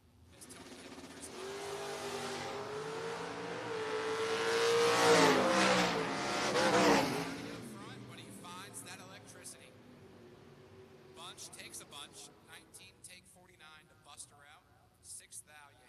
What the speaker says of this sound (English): Tony Hill and that Pro Stock S10 keeps on keeping on.